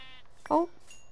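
A single short sheep bleat from the Minecraft video game, with a wavering, voiced quality that stands out once against quiet background noise.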